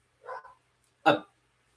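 A dog gives a soft, muffled woof and then a sharper single bark, close by in an otherwise quiet room.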